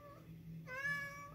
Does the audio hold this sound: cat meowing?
yes